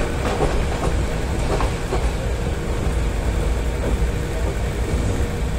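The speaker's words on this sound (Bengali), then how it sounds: "আমাদের ট্রেন এখন ছাড়বে কক্সবাজারের উদ্দেশ্যে" A passenger train on the overnight Dhaka to Cox's Bazar run rumbles along with steady clickety-clack of wheels over rail joints, heard loud and close from inside the carriage, with no talking.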